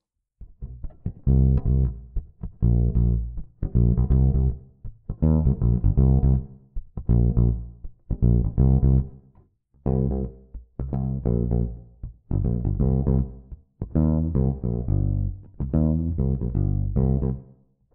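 A fretless bass played through its neck pickup with the bridge pickup switched off gives a round, warm tone, with a steady run of sustained notes and short gaps between phrases, played alone without talk.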